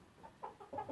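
Hens in a pen give soft, short clucks, several quiet calls in quick succession over faint background noise.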